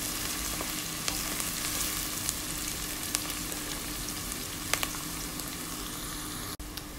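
Onion and garlic frying in olive oil in a pot, a steady dense sizzle throughout with a few faint clicks of stirring and no talking.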